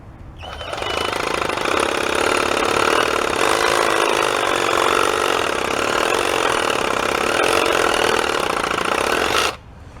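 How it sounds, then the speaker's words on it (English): A cordless reciprocating saw cuts through tree roots in the dirt, one continuous loud, buzzing run lasting about nine seconds before it stops abruptly. "I'm going to use a cordless sawzall to cut off these roots."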